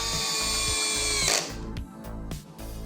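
Nagawa NCB1021 cordless brushless drill driving a screw, a steady high motor whine with a ratcheting pulse that stops abruptly partway, followed by a few sharp clicks and knocks.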